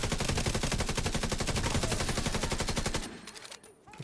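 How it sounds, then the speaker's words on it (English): Rapid automatic gunfire in a video game rattles out in a loud, dense burst of evenly spaced shots, then stops abruptly and leaves a few scattered quieter sounds. "Who are you and why are you shooting at me?"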